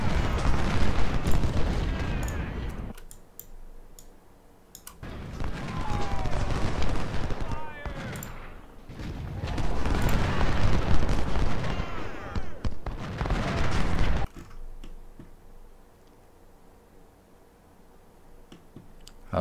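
Cannon and artillery fire in the Civil War battle game Ultimate General: Civil War, during the Siege of Jackson: repeated bursts of booming gunfire in dense stretches with brief quieter gaps, loud and close, no talk.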